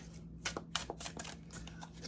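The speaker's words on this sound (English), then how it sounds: "shuffle it through a few times" A tarot card deck being shuffled, a quick run of papery riffling bursts, close and fairly soft, with no talking.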